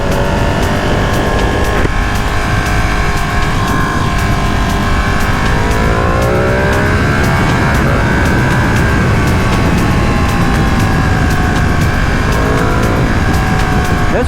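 A 2020 Ducati Panigale V2 motorcycle in race mode accelerates hard with a loud, continuous engine roar, rising and falling in pitch through gear changes, close-up amid steady wind rush.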